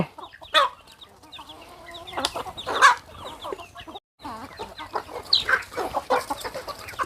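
Young chickens and cockerels on a Thai farm cluck and squawk in overlapping bursts, loud and close, with a brief pause midway and no talking.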